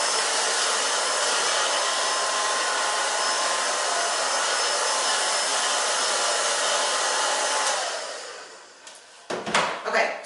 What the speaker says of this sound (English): then I'm gonna use my blow dryer, just on low